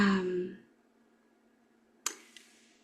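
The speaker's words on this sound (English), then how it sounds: "So if I snap my fingers" A single crisp finger snap, close and clear, sounding alone after a moment of quiet. A voice trails off just before it.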